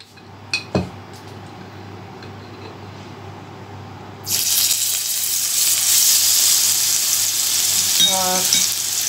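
Ginger garlic paste drops into hot oil in a pan for a shrimp cabbage dish; a few light clinks come first, then a loud, sudden sizzle bursts in and holds steadily to the end.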